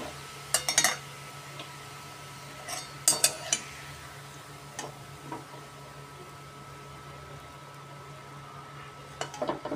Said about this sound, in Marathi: आता आपण थोडेसे पापड तळून पण बघणार आहे. तेलामध्ये टाकल्यानंतर बघा किती फुलला आपला पापड.